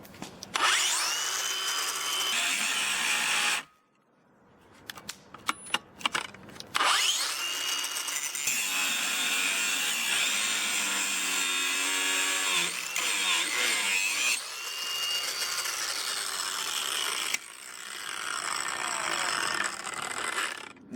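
A Ryobi or Ridgid brushless cordless angle grinder runs at a loud, high-pitched whine that cuts out briefly, sputters through several short bursts, and then resumes. It changes pitch under load, as if cutting, over about twenty seconds.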